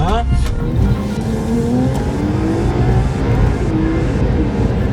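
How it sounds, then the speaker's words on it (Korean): Kia Opirus sedan accelerating hard at high speed, a steady loud engine drone with rising tones as it pulls through the gears, under continuous road and tire roar heard from inside the cabin. "고속 주행 한번 해보겠습니다"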